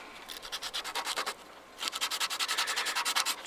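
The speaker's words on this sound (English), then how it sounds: "Just gonna sand it down, not too long." Sanding on a broken plastic interior trim piece from a Foxbody Mustang, a rhythmic back-and-forth rasp in two bursts of quick strokes, close and fairly loud, with a brief pause between them and no talking.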